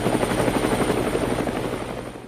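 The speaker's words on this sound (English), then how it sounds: "The helicopter sliced through the open sky, its blades whipping up powerful gusts that shook the fields below." A helicopter flying low over open fields, its rotor beating in a rapid, loud, even thump that stays close and fades slightly toward the end.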